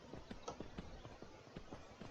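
Horse hooves clip-clop in a steady trotting rhythm in a video game, faint and quiet, with a light background hiss.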